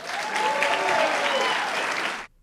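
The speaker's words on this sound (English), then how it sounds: "You tell me by a round of applause, are we united around Vivek and around John Husted?" Crowd at a Republican political rally breaking into loud, dense applause with scattered cheers, sustained for about two seconds before cutting off abruptly.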